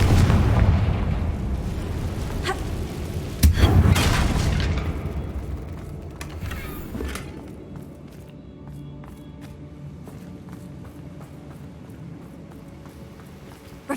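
A Confringo blasting spell in Hogwarts Legacy detonates at a damaged bridge: a loud boom around the 3.5-second mark follows a heavy rumbling opening, then debris and crackling settle into quieter ambience.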